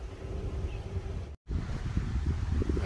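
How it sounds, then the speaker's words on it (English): Wind blows across an open rocky-clay site with a large solar array, a steady rushing buffet on the microphone, broken by a brief silent gap midway. "Nice windy day here"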